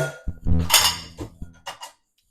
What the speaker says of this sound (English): We're going to do some dishes